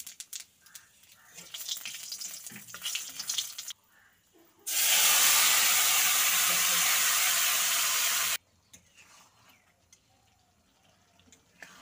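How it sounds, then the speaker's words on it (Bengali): Dry red chillies, bay leaf and five-spice seeds hit hot oil in a kadai with a sudden loud sizzle that holds for about four seconds and then cuts off, with softer kitchen clatter before and after. "তেলটা গরম হয়ে গেছে, দিয়ে দিচ্ছি শুকনো লঙ্কা, তেজপাতা, আর এখানে দিচ্ছি 5 ফোড়ন"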